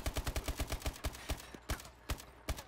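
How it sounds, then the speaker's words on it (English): Rapid gunfire in Advanced Warfare, shot through a wall, comes as a fast run of sharp, evenly spaced reports that slow into scattered single shots, fairly close and without talk. "You shot him through the wall."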